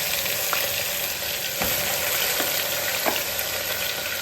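Egg chicken frying in a pan, a loud, constant close-up sizzle with faint stirring taps now and then, no voices.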